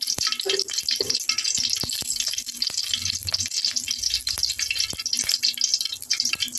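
About two spoons of oil sizzle and crackle steadily in a frying pan, with scattered sharp pops and a faint low hum underneath.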